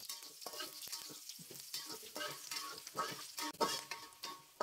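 Shallots sautéing in hot cooking oil in a wok, a steady close sizzle with frequent scraping stirs and clatters of a utensil against the pan, with no talking.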